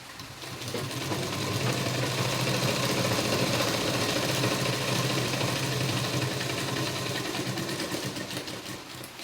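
A sewing machine runs steadily while stitching a V-neck blouse, a close, continuous mechanical whir that rises in speed and holds for several seconds without any talk.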